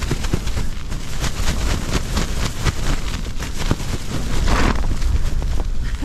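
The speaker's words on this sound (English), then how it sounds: "Bloody hell, it is windy." Strong storm wind buffets a nearby microphone while wild camping, a loud continuous rushing roar with gusty bursts and no voices.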